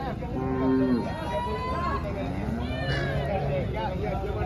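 Cows, HF and Jersey cattle, at the Chalisgaon cow market give low drawn-out moos near the start and again later, heard over steady crowd noise and people talking.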